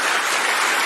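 Studio audience cheering and applauding, a dense, loud wash of clapping and whoops that fills the whole brief moment without a break.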